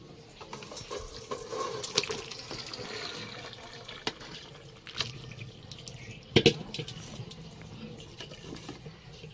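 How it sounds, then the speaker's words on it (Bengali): Water pattering and trickling off boiled taro leaves into a plate in a home kitchen, a soft continuous drip with a few louder splashes, close and alone without talk. "কচু শাকটা সিদ্ধ হয়ে গেছে এবারে এই থালাটায় জল ঝরাতে দেবো"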